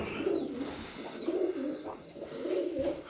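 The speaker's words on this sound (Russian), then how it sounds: "Вот этот голубь, это его место." A pigeon coos nearby in its loft, giving several low, rolling coos in a steady rhythm that repeat across the moment with no talking.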